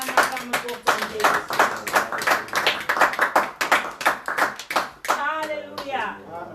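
A church congregation claps rhythmically and steadily, with dense, close hand claps running under loud voices calling out and singing throughout.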